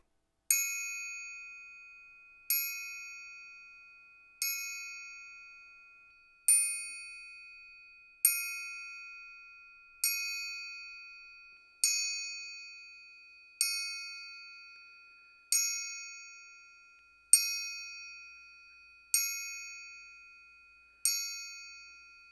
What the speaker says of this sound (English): let's try a chime